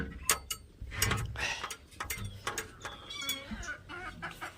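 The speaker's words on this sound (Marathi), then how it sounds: "हे बघा कसा दंगा उत्सव आहे कोंबड्यांचा" A flock of chickens clucking and squawking close by, with overlapping calls throughout and no pauses.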